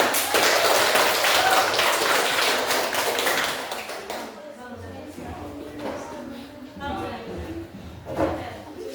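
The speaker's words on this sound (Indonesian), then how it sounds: "Ayo kita sambut kelompok 1 dengan tepuk tangan ya" Classroom applause from students welcoming the first presentation group at a coding and artificial intelligence lesson, dense clapping for about four seconds that fades into scattered taps and voices talking.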